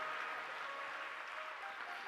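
An audience applauds during a Hindu religious discourse on the story of Lord Shiva, given on Shivaratri. The clapping is a brief, steady, fairly faint patter with no voices.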